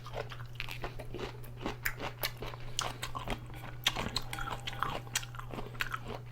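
Close crunchy chewing and biting of Nongshim stir-fried instant noodles, a quick irregular run of soft crackly bites over a low steady hum, with no talk.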